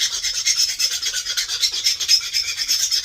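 The tip of a flaker is sharpened on an abrasive while making a mookaite arrowhead, giving a close, loud rasping scrape in quick, even back-and-forth strokes, with no voices.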